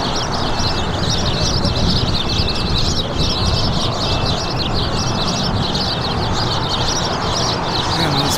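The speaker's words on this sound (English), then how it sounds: "Man, these birds are getting louder." A dense chorus of birds chirps steadily at Los Angeles International Airport, loud and continuous for the whole stretch over a broad outdoor background rumble, with no voices.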